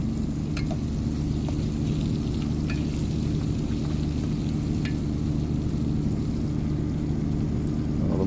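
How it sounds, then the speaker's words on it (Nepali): Tomatoes fry in a pan with a loud, continuous, close sizzle like heavy rain, with occasional faint scrapes and ticks of stirring over the steady crackle and no talking. "गोलभेडालाई मजाले भुट्ने पाक्ने गरी"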